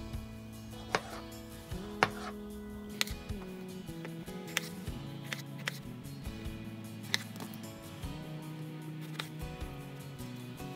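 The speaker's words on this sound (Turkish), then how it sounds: "Bu şekilde iri parçalar haline doğrayalım." A knife chopping tomatoes into large chunks on a cutting board, sharp irregular taps spaced about a second apart over a steady low hum.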